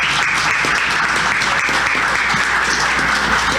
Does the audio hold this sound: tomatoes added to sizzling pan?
no